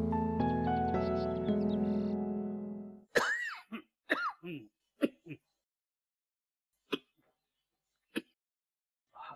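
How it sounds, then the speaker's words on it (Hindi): A young girl coughs in a Pakistani TV drama scene, first a quick cluster of harsh coughs after a sustained tonal passage, then sparse single coughs spaced seconds apart, close and without speech. "आप इस तरह से खांस रहे हैं"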